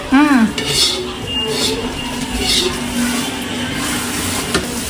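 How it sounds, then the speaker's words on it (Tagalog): Dishes, plates and cutlery clink and clatter close by as food is served onto plates at a home dinner, with several sharp metallic taps over a steady kitchen background. "Nakapaglagay na po ako ng ulam sa pinggan."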